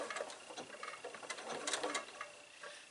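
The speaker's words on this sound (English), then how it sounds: "I'm back stitching a couple of stitches just to make it kind of strong right there" Quiet, steady rapid ticking of a sewing machine back stitching at a pillow corner, close and alone with no talk.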